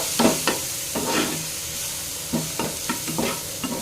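Ground spices, including Kashmiri chilli powder, fry with brinjal in a pan, a soft sizzle broken by several sharp scrapes and stirs of a spatula, close up and with no talking.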